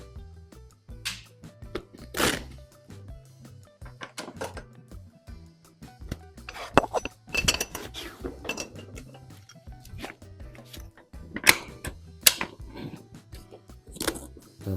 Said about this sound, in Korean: 제가 다른 소프트박스로 바꿔볼게요